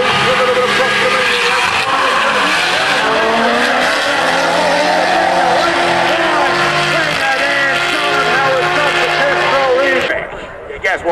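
Race cars roaring and chasing at a time attack event, engines rising and falling with tire squeal, loud and continuous, with a commentator talking over them.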